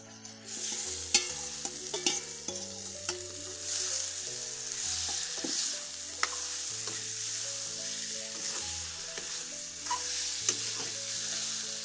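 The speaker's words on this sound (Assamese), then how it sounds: "এতিয়া এয়া তেলখিনি হেৰি কৰিলোঁ, এতিয়া মাংসখিনি ইয়াত দি দিম।" Meat dropped into hot oil and stirred gives a continuous frying hiss with occasional sharp scraping knocks, layered under steady melodic background music and with no talking.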